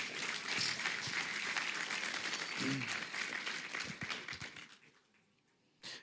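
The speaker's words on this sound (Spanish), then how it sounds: "Dale un fuerte aplauso a Dios." Congregation in a church applauding steadily as a dense wash of clapping that holds for several seconds before thinning out near the end, with a brief voice cutting through midway.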